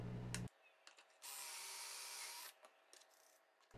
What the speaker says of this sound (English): Start the base assembly by using glue and pocket screws on the toe kick pieces.